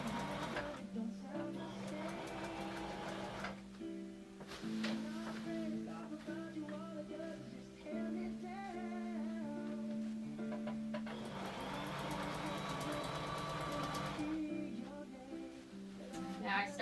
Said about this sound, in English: Now I started sewing here,